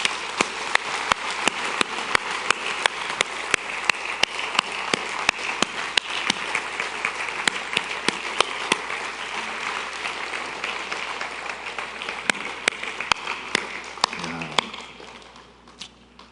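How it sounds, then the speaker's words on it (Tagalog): Loud, sustained applause from a church congregation during a morning service, dense clapping filling the room with a few sharper claps, fading out near the end. "pwede mong pumalakpak kayo ng napakalakas."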